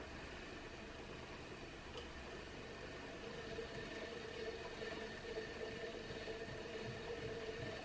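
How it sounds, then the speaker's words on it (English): A foot-treadled spinning wheel spinning drafted fibre into yarn, giving a low continuous mechanical whir and rumble, steady and fairly faint, without speech. "all I'm doing here with my hands is drafting the fibre and then adding twist with it with my foot"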